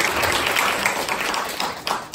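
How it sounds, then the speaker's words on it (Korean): Audience applause at a business presentation for a nutritional supplement company, a dense, steady wash of many hands clapping through the whole moment, fairly loud and continuous with no clear gaps. "한번 박수 좀 쳐주세요"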